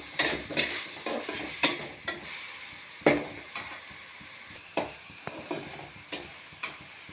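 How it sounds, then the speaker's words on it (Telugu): Tomatoes fry in a hot pan while a spoon stirs them, giving steady close sizzling broken by repeated scraping and clinking strokes against the pan at an uneven rhythm. "ఇలాగే టమోటాలు కూడా కొంచెం పచ్చివాసన పోయేలా వేపుకోవాలి"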